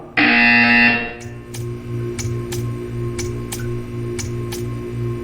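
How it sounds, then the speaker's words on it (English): A loud, steady electronic buzzer in the video game Portal 2 blares for about a second, then stops, leaving a faint hum with a regular soft ticking. "You will hear a buzzer"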